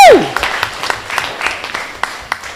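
Audience applause at a primary school Kweyol spelling bee competition, a brief burst of scattered claps from a modest crowd after a short sharp tone, fading out over a couple of seconds.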